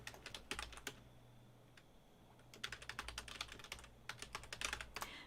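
Bursts of quick keystrokes on a computer keyboard, quiet and close, separated by short pauses over a low steady hum, with no talking.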